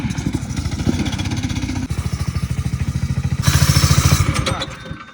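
A snow-drift vehicle's engine idles high, a loud, close, rapid chugging pulse that holds steady and then rises briefly in intensity.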